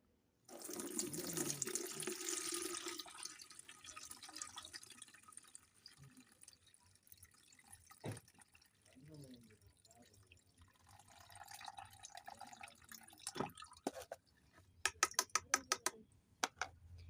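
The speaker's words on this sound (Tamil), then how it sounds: "இப்போ இதை வந்து வடிகட்டிடுறேன்" Orange-peel liquid pours briefly while being strained, then trickles and drips sporadically, with a few small clinks and taps near the end; quiet and close.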